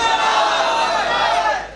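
A large crowd at a religious gathering in Gujranwala shouts the Takbir chant together, one loud massed roar lasting under two seconds.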